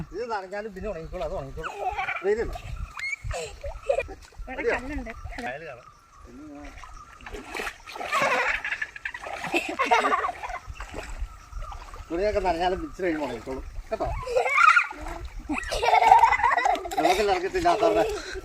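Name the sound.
children splashing in pond water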